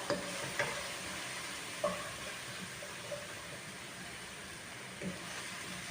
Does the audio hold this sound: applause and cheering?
no